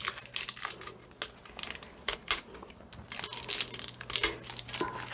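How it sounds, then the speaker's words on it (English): Tape is peeled and ripped off a sublimation tumbler in a series of close, crackling, crinkly tears with short pauses between bursts. "Let me just do like a band-aid and just rip it."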